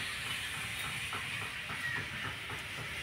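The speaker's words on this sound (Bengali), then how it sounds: "এবার বিস্কুটগুলোকে ভেজে নেব।" Khasta biscuits frying in lightly warmed oil give off a steady, even hiss of sizzling that runs throughout without pause, with no talking.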